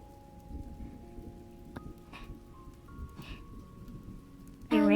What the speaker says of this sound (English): the rain sounds are so peaceful